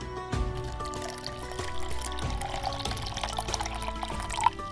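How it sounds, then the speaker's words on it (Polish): Water poured from a paper cap onto the ground, a steady splashing pour running the whole stretch amid a busy musical backdrop, with one brief brighter splash near the end. "Idź do tego małego źródełka po wodę, przynieś ją tutaj i poblej zasiane dukaty."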